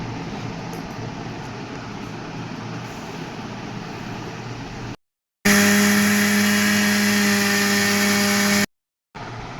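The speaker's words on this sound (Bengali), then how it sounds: "এটাকে আমি প্রথমে মিক্সারে দিয়ে গুঁড়ো করে নেব" An electric mixer grinder grinds 200 grams of semolina into fine powder, giving a loud, steady motor whir with a bright high hiss and a strong low hum. It runs alone in two bursts separated by a brief pause.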